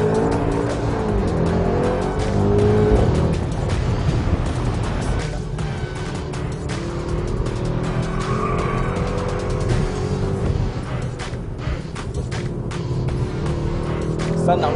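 A 2019 Mercedes-Benz AMG GT 63 S four-door accelerates hard out of a track corner, loud engine roar with tire squeal and shifting revs, continuous and close.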